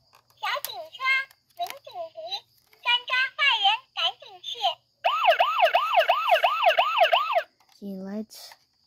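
A voice speaks in short bursts, then a toy steering wheel's police car button plays a rapid electronic wailing siren with quick rising and falling sweeps for a few seconds, followed by a short voice.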